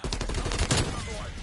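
Rapid, loud gunfire from a shooter video game during a competitive league match: a close burst of repeated sharp cracks for most of a second, then a fading tail with faint background game noise.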